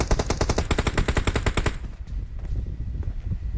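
Automatic gunfire in the mobile battle royale game PUBG Mobile, a rapid loud burst of evenly spaced shots for nearly two seconds, then quieter scattered distant shots with no voices.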